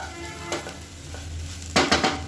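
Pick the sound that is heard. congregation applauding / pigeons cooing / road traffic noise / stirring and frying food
stirring and frying food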